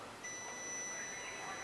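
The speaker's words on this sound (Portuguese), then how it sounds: "já emitiu o sinal sonoro, deu continuidade." A multimeter in continuity mode beeps while testing a circuit conductor at an electrical bus bar. A steady, high, continuous tone starts after a brief pause and holds to the end over faint room noise.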